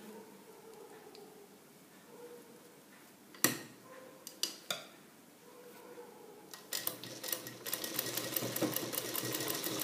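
A sewing machine back-stitches piping onto a garment neckline. A few sharp handling clicks and knocks come first, then the motor starts a fast, close, steady whir of needle strokes that runs to the end.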